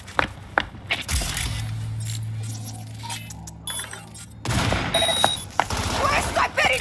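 Cyberpunk 2077 firefight with a sniper and enemies, sharp gunshot cracks and bursts, a sustained low rumble in the middle, and shouted voices mixed in.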